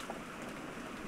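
Heavy rain as a visual novel sound effect from Umineko no Naku Koro ni: a brief, dense and even wash of hissing downpour with no breaks.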